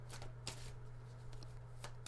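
A deck of Twin Flame Oracle cards is shuffled close by, making soft, quiet riffling bursts over a steady low room hum.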